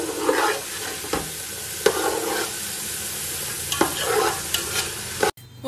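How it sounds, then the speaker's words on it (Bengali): Vegetables for fried rice stir-frying in a pan, a loud close sizzle broken by repeated scraping and tossing strokes of a spatula, ending abruptly. "ফ্রাইড রাইসের এই সবজিগুলো একটু ভাজা ভাজা হবে"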